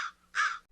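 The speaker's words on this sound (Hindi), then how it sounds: "तभी उन्हें पेड़ के नीचे से एक कौवे की आवाज आई।" A crow cawing in a Hindi children's story about crows and owls: two harsh, nasal caws, the second louder and longer, close and clear with nothing else audible.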